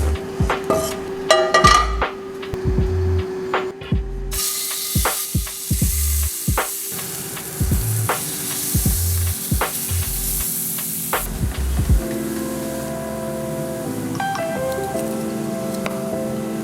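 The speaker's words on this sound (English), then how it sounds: "Let's put in the pan." Steak searing in a hot pan: a loud broadband sizzle bursts in after a few clanks and thuds, holds steadily for several seconds, then drops to quieter crackling amid utensil knocks.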